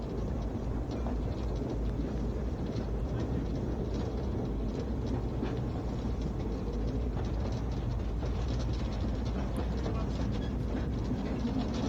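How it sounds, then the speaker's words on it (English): A heritage railway steam train rolls along and slows toward a halt, a steady low rumble with faint rail clatter running continuously, while someone talks over it. "The train slows as we approach Oak Tree Holt"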